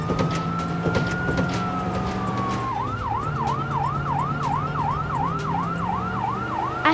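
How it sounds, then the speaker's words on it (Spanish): A loud fire truck siren wails in a long rising tone, then switches to a fast, repeating yelp that continues steadily. "Es un camión de bomberos."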